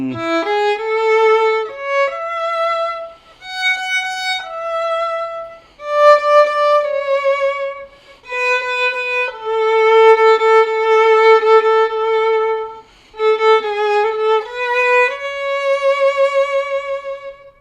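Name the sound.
violin melody played with fourth finger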